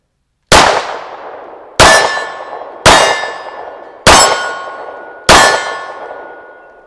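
TISAS 1911 Stingray pistol fired at steel targets on a range, five sharp loud shots each followed by a ringing metallic clang that decays, spaced about a second apart.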